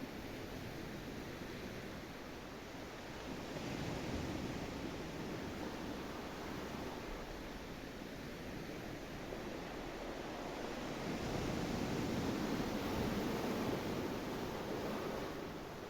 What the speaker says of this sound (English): The only sound is the waves, creating a natural, rhythmic flow